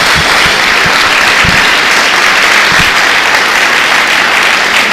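Church congregation applauding together, a steady dense wash of clapping filling the whole stretch, loud and continuous with a few low thumps.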